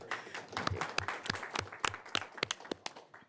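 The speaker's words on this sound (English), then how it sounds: "Yes, good for you for clapping" A small audience at a county election board meeting claps briefly, a thin scatter of separate, uneven hand claps close by, with no talking.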